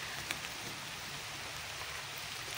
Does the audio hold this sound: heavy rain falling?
yes